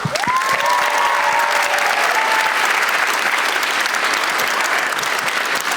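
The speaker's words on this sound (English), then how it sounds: "So let's give them a round of applause." An audience applauds skit performers on stage, dense continuous clapping that holds loud and even throughout, with a brief whistle early on.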